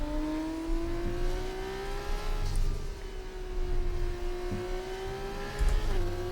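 Formula 2 race car engine in the F1 24 racing game, a steady high-pitched whine that climbs and dips slightly as the throttle changes, loud and continuous with no talk over it.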